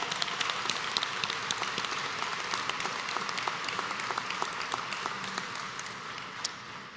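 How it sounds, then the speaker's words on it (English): A church conference audience applauds the organist with a long, even round of clapping that stays moderately loud and gradually tapers off. "I think we should give him a round of applause."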